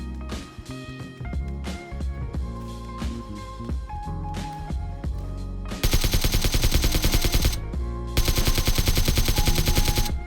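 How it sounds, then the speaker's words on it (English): Rapid bursts of automatic AK rifle gunfire with a suppressor in PUBG, loud and close, with scattered single shots early on, then two long sustained volleys of fire. "run towards gunshots, which I hear off in the north"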